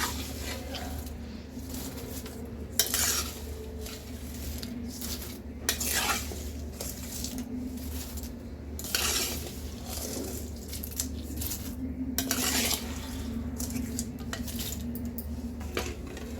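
A spoon scrapes and stirs crispy fried avalakki (flattened rice) with tempering in a metal pan, a steady close clatter of rhythmic scraping strokes with soft sizzle underneath and no talking.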